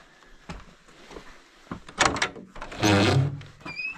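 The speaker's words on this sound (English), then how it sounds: "Nice big door." The big wooden door of a trailside ski shelter is opened, giving a few knocks and handling clunks and then a louder scraping, creaking swing that fades out.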